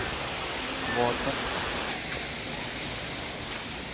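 Broad, steady rushing water from a fountain splashing nearby in Vienna, Austria, fills the whole stretch with a constant hiss; a brief voice is heard at the start.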